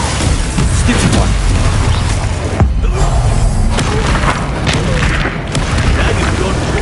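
Loud booming spell blasts from Bombarda and Confringo in Hogwarts Legacy, heavy thuds and crashes layered over dense combat noise and a game soundtrack.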